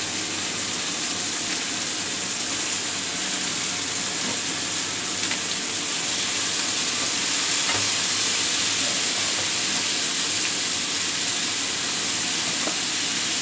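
Smoked pork belly frying for ginisang sitaw, a loud, constant hissing sizzle that fills the whole stretch with faint scrapes of stirring, no talk.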